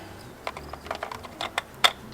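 Plastic wiring connector plugs clicking into the harness behind an S2000 gauge cluster being installed in an Acura Integra, giving a series of small, sharp, close clicks at an irregular pace over quiet background.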